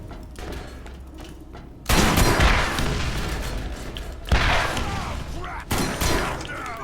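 Borderlands video game combat with a launcher and gunfire: several sharp booming blasts and bursts of shooting, loud and up close, separated by brief lulls of lower rumble.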